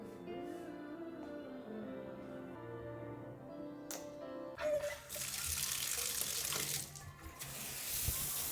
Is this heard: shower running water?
yes